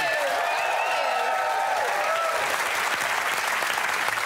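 Studio audience applause on a comedy panel show greets the series winner, a dense, steady wash of clapping throughout, with faint music and voices layered over the start.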